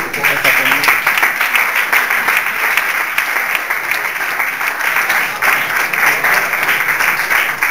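Strong, sustained audience applause greets the goalkeepers Toño and Baño at a team kit presentation, loud and dense for the whole stretch with steady crowd clapping and no pause.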